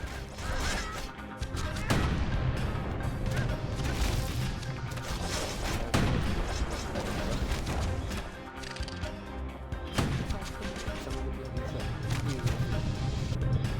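Security skiffs firing in the video game Bastion: a dense, continuous barrage of crashing impacts and booms with heavy hits spaced every few seconds, loud and busy against game music.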